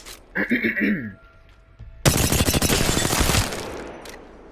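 A Hemlok rifle fires in Apex Legends. A brief voice comes first, then a loud, rapid stream of gunshots lasts about a second and a half before trailing off.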